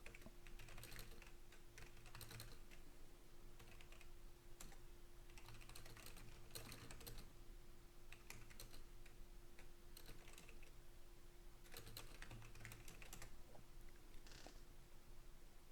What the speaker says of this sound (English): Sorry, I'm typing on Discord.